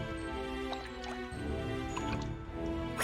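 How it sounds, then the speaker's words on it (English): Gentle flowing, dripping water from the video game Ys: Memories of Celceta trickles softly and continuously beneath sustained game music. "This is water."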